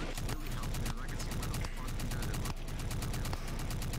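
Rapid automatic gunfire rattles in steady bursts during a video game training drill, a fairly faint, continuous stream of shots with brief gaps.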